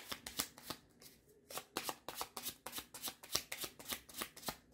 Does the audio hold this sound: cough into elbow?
no